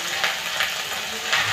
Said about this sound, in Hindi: अब इसमें हम पहले भूनने वाला आइटम डाल लेते हैं, जैसे हो गया केला